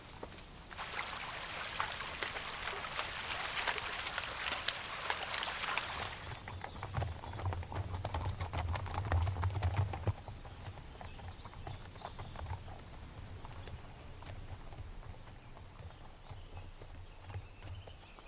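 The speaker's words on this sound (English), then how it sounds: "I'm really impressed with these horses and their ability to negotiate this incredible terrain." Horses walk over rough American prairie terrain, their hooves clip-clopping in a steady, uneven rhythm close by. The first stretch is brighter and busier, then the hoofbeats turn to duller, heavier thuds.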